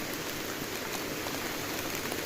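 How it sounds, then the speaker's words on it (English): Heavy rain pours steadily during a motorbike trip in North Bengal, a dense, constant hiss of drops striking surfaces all around, loud and unbroken, with no voices. "So still it's raining very hard"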